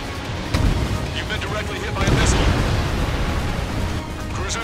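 A missile strike in the Ace Combat game flight against an F-15E Strike Eagle lands as a heavy booming explosion with a rumbling, roaring tail. It is followed by further blasts and sustained thunderous noise that stays loud throughout.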